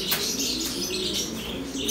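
Female blue bar pigeons coo softly in a loft, with light chirps and brief wing flutters layered over a steady low background.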